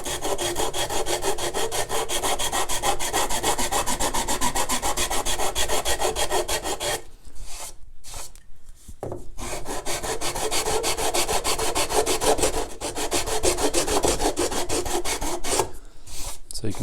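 Steady, rhythmic rasping as an 80-grit neck shaping tool is worked along a wooden guitar neck, loud and close, with brief pauses in the strokes partway through.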